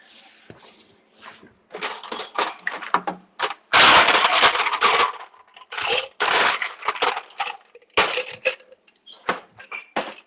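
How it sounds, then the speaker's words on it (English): Ice cubes tumbling into a metal cocktail tin during a home cocktail demonstration: a run of sharp, close rattling clatters and cracks in bursts, with one loud heavy pour in the middle and no talk. "So I'm going to put some ice into the tin."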